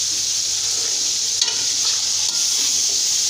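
Peas going into sizzling masala with tomatoes in a pan for mixed vegetable pulao, a steady close frying hiss with a couple of faint stirring knocks.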